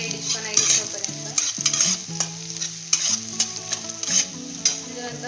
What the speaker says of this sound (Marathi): थोडा कांदा असा फ्राय करून घ्यायचा, थोडा रेडिशपणा येईपर्यंत